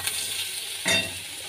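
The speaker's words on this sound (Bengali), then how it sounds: "তো এটা একটু ভাজা ভাজা হোক।" Vegetables fry in a pan with ginger, chilli paste, cumin powder, salt and turmeric, a steady close sizzle with a brief louder burst of hissing as the contents are stirred.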